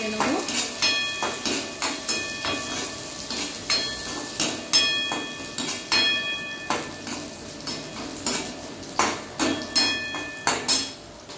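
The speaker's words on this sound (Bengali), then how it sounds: "কিশমিশ আর বাদাম ভালো করে ভেজে নেব।" Raisins and nuts fry in ghee in a pan while a spoon stirs and taps against the metal in a regular rhythm of sharp clinks over a soft sizzle, close by, with occasional voices.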